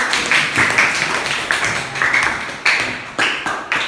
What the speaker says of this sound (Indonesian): ya tepuk tangan untuk Indriani